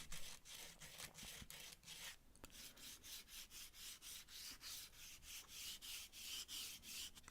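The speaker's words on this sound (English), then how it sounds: "and also give them a sanding to make them smooth" Rhythmic back-and-forth scratching of sandpaper on wood, close and steady, with regular strokes repeating throughout.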